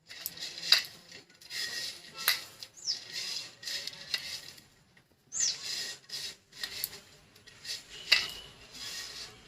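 Raw tamarind is mashed by hand with small fried fish, oil and sugar, giving soft squelching, sticky slaps and light clicks in an uneven kneading rhythm, quiet and close, with no talking.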